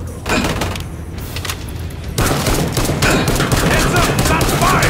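Rapid gunfire rattles through a Killing Floor 2 firefight in sustained, dense bursts of sharp cracks, growing louder and busier partway through, with a game voice faintly calling out in the mix.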